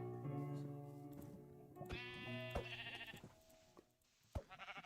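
Video-game sheep bleat repeatedly and close up, with several overlapping wavering calls and sharp clicks and thuds of game action between them, and no talking.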